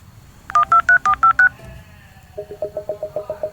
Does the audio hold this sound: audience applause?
no